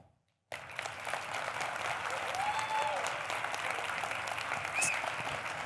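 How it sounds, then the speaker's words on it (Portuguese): Audience applause at the close of a health and medicine lecture, starting abruptly after a short silence and continuing steadily, with brief whistles and faint cheers over the clapping. "salve de palmas"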